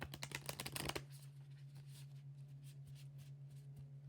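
Tarot cards being shuffled by hand, a quick burst of riffling clicks for about a second, then trailing off into quiet rustles over a steady low hum.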